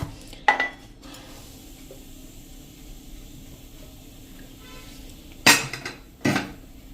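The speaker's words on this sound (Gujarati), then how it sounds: "હવે આ બધું આપણે મિક્સ કરી લેશું" A spoon stirs dry dhokli dough ingredients, flour with salt and oil, in a bowl: quiet scraping punctuated by a few sharp metallic clinks against the bowl near the start and end.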